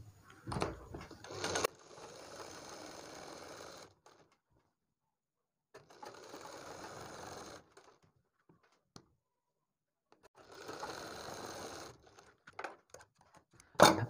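A sewing machine stitches along the buckram edge of a kurti neck in three separate bursts with quiet gaps between, fairly faint and mechanical.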